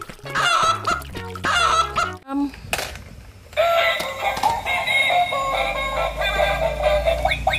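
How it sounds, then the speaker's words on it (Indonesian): A chicken clucks in short bursts near the start, followed by a busier stretch of mixed, steady background sound. "Wow, ada seekor ayam."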